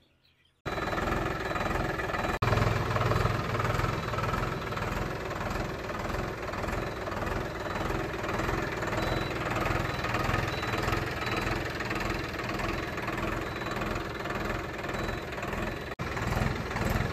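A Massey Ferguson 9000 tractor engine idles steadily and loudly nearby after a brief quiet start, with an even low rumble and a slight knocking beat throughout.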